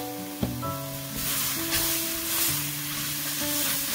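Asafoetida drops into hot oil for palak dal and a bright, steady sizzle rises and holds, with a few light knocks and a faint tonal hum underneath.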